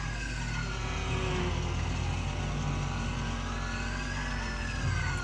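Steady engine roar from a car in a GTA police chase, a continuous loud drone with shifting pitch as it revs, held throughout with no pauses.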